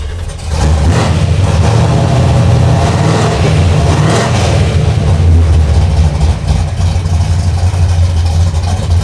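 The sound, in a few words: car engine starting and revving for the first time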